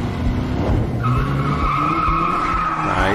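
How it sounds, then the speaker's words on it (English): Tires skid and squeal loudly during a car chase in Quantum Break, a sustained screech rising over engine roar and road rumble, close and intense for a few seconds with no talking. "Well, now we got a car chase scene too."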